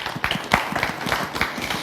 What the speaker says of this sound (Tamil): அந்த இசைக்கலைஞர்களுக்கு ஒரு அரங்கம் நிறைந்த கைத்தட்டல்